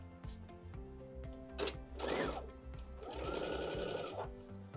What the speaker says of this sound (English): you're gonna sew a quarter of an inch on either side of the drawn line